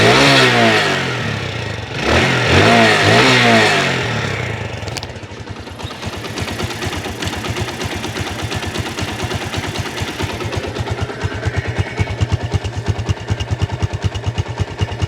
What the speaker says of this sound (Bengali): এবার আপনাদেরকে গাড়ির ইঞ্জিন সাউন্ডটা শোনানোর চেষ্টা করব।